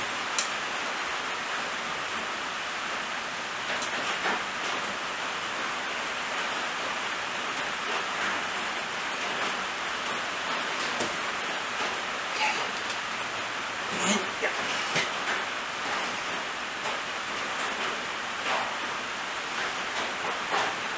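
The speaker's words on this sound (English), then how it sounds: "As you may be able to hear, it's raining." Steady broadband hiss of rain falling, constant throughout with a few brief louder spatters, no voices.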